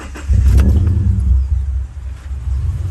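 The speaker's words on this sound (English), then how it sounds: "So I'm gonna start the car back up." A 2008–2014 Subaru Impreza engine cranks and catches, rising into a loud low rumble that settles into a steady idle, heard close up with no talking.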